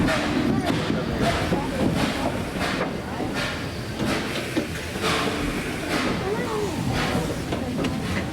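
A Tweetsie Railroad train stands halted in wilderness countryside, its steady hiss and low rumble running loud and close, with voices talking over it.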